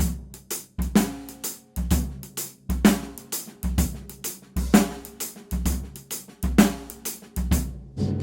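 A drum kit plays a halftime shuffle groove in the manner of the Purdie shuffle, with a heavy kick and backbeat snare and busy ghost notes and hi-hat filling between, steady and close for about eight seconds.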